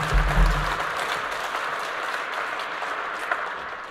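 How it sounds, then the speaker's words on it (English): Applause at a college annual awards ceremony for its staff, a full room clapping steadily and evenly, fading slightly toward the end without talk. "So a big round of applause to the amazing staff."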